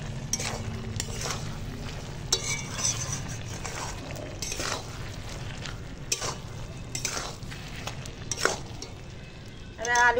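Chopped coriander leaves are stirred into a dish in a frying pan, with a low steady sizzle under repeated scraping and clinking of a spatula against the metal pan, and a louder clatter at the end.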